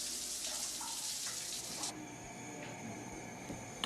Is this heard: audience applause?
no